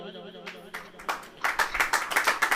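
A church congregation begins clapping, swelling into quick, rhythmic applause close by after a voice calls out over a sustained tone.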